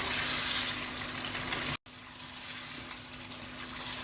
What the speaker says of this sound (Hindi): आप देख सकते हैं चिकन किस तरह खूबसूरती से फ्राई हो चुका है